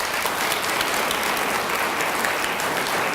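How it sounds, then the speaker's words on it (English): Parents and guests at an elementary school D.A.R.E. graduation clap for the graduating children, a steady wash of dense applause from a crowd filling the room for a few seconds. "Let's give our kids a round of applause."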